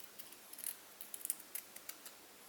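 Scissors snip paper along stitching for a Christmas 3D craft mailbox, a quick run of crisp close cuts, quiet and otherwise silent.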